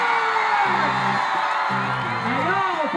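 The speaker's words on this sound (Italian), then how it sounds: "Voglio sentire un urlo che tiri giù il banco" A crowd at a Boom Da Bash show in Brindisi yells, whoops and cheers loudly and continuously, with pitched shouts rising over a dense wall of noise.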